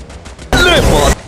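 A bomb blast in the Free Fire mobile battle game: one loud, broad burst lasting about half a second, rising abruptly from quieter background game sounds and then dropping back.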